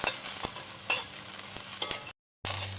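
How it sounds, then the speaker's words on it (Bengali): Green chilies frying in a pan hiss and sizzle close by, with several sharp stirring clatters and a brief silent gap before the sizzle resumes. "মরিচটা একটু হালকা ভাজা নেই"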